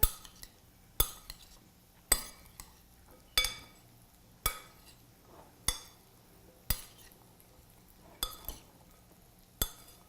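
A spoon clinks against a bowl while black bean salad is tossed and mixed, giving about nine sharp, regularly spaced taps with soft stirring between, close and fairly quiet with no talk.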